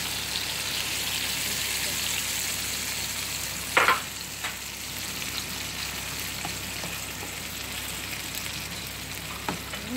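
Egg cooking in a pan gives a steady, moderate sizzle, broken by a short clatter and a few faint taps of stirring.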